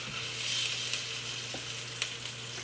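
Chicken thighs sizzling skin side down in hot oil, a steady bright frying hiss with occasional soft pops and a low pan hum, continuous and close with no talking.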